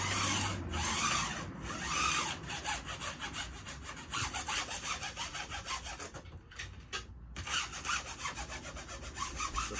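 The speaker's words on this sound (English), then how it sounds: "all you got to do is just rub the edges here to get the burrs and the sharp edge off" A laminate file rubs along the edges of a wooden picture frame to remove burrs and sharp edges, making steady, close back-and-forth rasping strokes with brief pauses, no talking.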